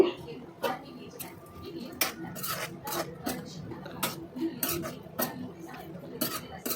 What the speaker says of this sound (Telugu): అలా కలుపుకొని మూత పెట్టుకొని పక్కన పెట్టుకోవాలి